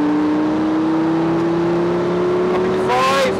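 A Lamborghini on a race track accelerates hard at full power, its engine note rising steadily and loud up close; a brief higher whine near the end hints at a gear change. An instructor's voice can be heard over the engine.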